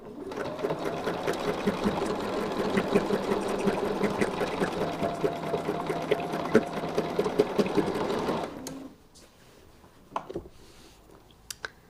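A sewing machine stitches a 3-inch heart motif along a quilt border, running as a continuous close mechanical whir with a rapid needle rhythm for about eight seconds, then stopping abruptly and leaving a few faint clicks.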